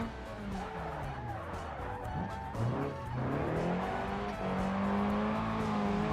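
A car engine in BeamNG revs up and down with rising, falling tones while tires squeal, loud and continuous, with the engine note climbing steadily toward the end.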